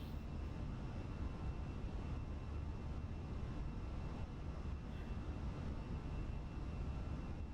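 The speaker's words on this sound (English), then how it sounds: "I took off on the wrong runway" Steady, even jet-engine roar from a simulated airliner taking off in VerticalSim flight-simulator scenery at KHTS, quiet and constant throughout with no voices.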